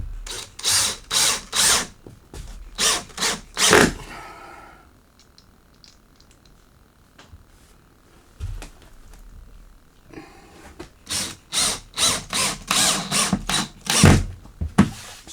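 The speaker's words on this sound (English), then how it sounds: "So now it's just a matter of screwing the rest of it down." A power drill drives screws into the plywood subfloor of a house addition. Loud, close bursts come in a cluster, then a quieter stretch with faint handling noise, then a second run of whirring bursts.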